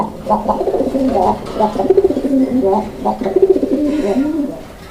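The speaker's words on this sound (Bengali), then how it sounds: "প্রত্যেকটা জোড়ায় কিন্তু আলহামদুলিল্লাহ অ্যাক্টিভলি ডাকাডাকি করে" Domestic Raj-golla pigeons kept in pairs coo together in repeated, rolling bursts, close and fairly loud, one call after another with no pause.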